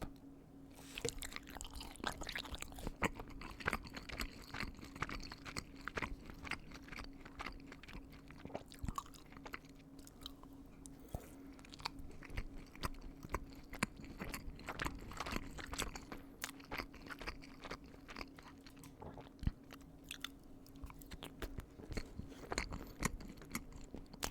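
Close, quiet chewing and crunching while eating a Lunchly pizza snack kit with pepperoni, with continuous wet bites and crisp crunches throughout and a faint steady hum underneath.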